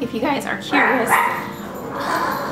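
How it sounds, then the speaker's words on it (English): A dog barks in short bursts close by, overlapping a person talking. "I apologize for my crazy dog."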